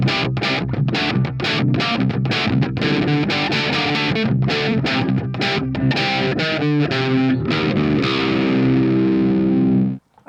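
Guitar played through a homemade distortion pedal clipping with a 1N4001 rectifying diode, giving a loud, fuzzy, saturated tone over a run of strummed chords and picked notes, ending on a sustained chord that cuts off abruptly.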